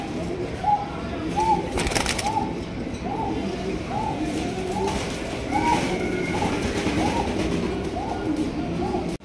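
Argent Modena pigeons coo steadily in a pigeon market setting, a regular series of soft low calls about every half second, under a constant background murmur of voices and distant noise.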